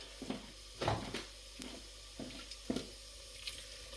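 Water is poured into a pan of onions and celery, a soft uneven splashing and sizzle with several brief surges, quiet and close.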